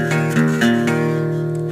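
Guitar chords from a song, struck several times in a quick sequence and left ringing, close and sustained, fading toward the end with no talking.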